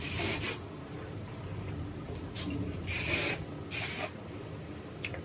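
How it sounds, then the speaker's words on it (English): Several short hissing bursts of an aerosol spray, close by, with quiet rubbing between them. "I'm just gonna spray a little bit."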